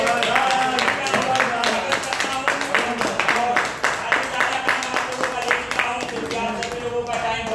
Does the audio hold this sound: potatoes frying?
no